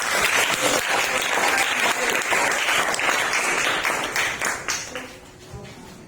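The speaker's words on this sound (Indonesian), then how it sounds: "Kasih aplaus untuk kelompok 4 ya." A room full of people applauds a group's classroom presentation, dense sustained clapping that fills the space before thinning out and fading toward the end.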